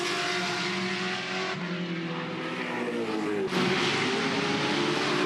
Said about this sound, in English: Rusty French showing that age shall not weary them in this race 2 of the Touring Car Masters, in a scrap with Cam Tilley